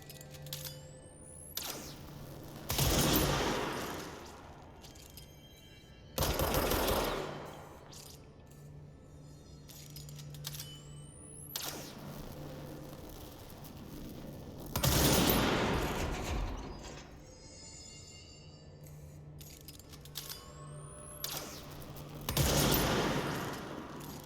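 Bursts of rapid gunfire in the video game Control go off in several separate volleys, each a second or two long, with a low steady hum in between.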